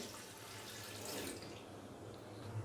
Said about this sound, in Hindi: अभी मैं इसके अंदर हाफ गिलास पानी डाल दूंगा